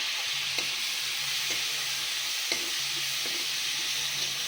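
Chopped vegetables with turmeric and coriander powder sizzle steadily in a pan, a continuous close frying hiss broken by a few soft stirring scrapes, with no talking.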